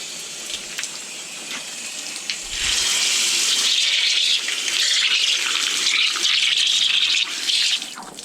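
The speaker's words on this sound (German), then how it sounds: "Wir haben doch noch einen guten Brunnen gefunden mit richtig Wasser." Water pouring from a public well fountain on a bicycle trip near the Black Sea, a steady close splashing gush that grows louder and fuller partway through.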